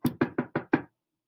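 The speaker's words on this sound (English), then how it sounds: "I knocked on the brick house." Five evenly spaced knocks rap on the door of a brick house, close and solid, then stop, followed by silence.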